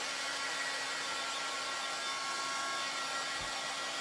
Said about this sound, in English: So I'm just going to use the dryer.